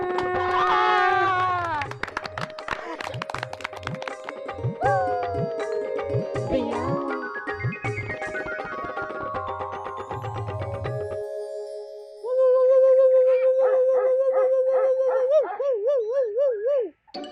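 A man vocally imitates a dog, letting out a run of yelping barks and whines that rise into a long, wavering howl, loud and close with no other voices.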